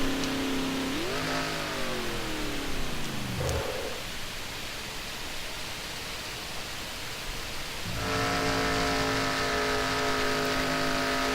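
Race cars accelerate out of the pits at Michigan. One engine revs up and sweeps past, fading away, then another car close by roars into a loud, sustained accelerating drone.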